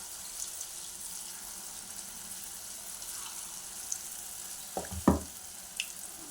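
Leftover-rice punugulu batter frying in hot oil gives a soft, steady sizzle, with a few brief splashy crackles and clinks as more batter goes in.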